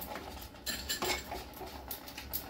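A spoon stirring a carrot sandesh mixture with ghee in a pan, producing quiet scraping and clinking strokes in a few uneven bursts, close and soft.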